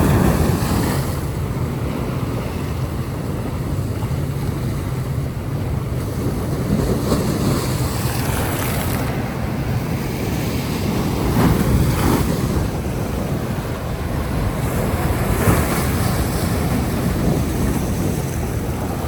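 Sea waves wash steadily against the shore in broad, continuous surf, with strong wind buffeting the microphone throughout and no voices.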